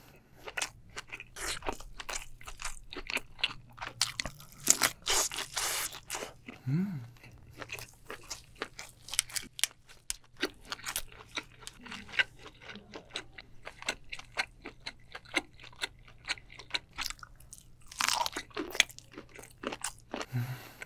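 Someone eats spicy tiger shrimp from a seafood boil up close, with dense, irregular crunching bites and wet chewing, plus occasional small clicks and smacks.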